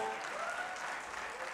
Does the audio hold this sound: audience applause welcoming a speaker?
yes